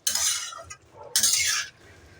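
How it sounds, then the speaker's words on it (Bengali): A spatula scrapes and clinks through fried pointed gourd and shrimp in a pan on a medium-low flame, two distinct stirring strokes close up with a short pause between. "সুন্দর করে নাড়াচাড়া করে দিলাম।"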